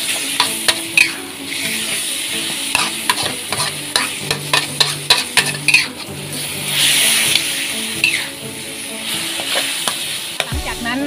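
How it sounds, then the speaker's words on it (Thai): Fish pieces stir-fry with jungle curry paste in a pan, a spatula tapping and scraping the metal in quick repeated strokes over a bed of frying sizzle, close and fairly loud. "ปลาโคกของเราไปผัดจ้าผัดรวมกันกับพริกแกงป่าจ้า"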